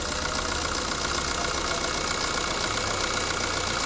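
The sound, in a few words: Maruti Swift VDI 2009 diesel engine being revved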